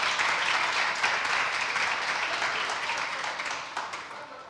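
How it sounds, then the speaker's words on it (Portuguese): An audience at a talk breaks into applause, a dense sustained patter of clapping that fades slightly toward the end. "Muito obrigado, palmas para ele."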